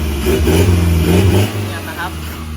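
A Toyota Hilux Revo Rocco with an electric bypass exhaust revs up once close by, a short throaty rise and fall of the engine, with a voice over it.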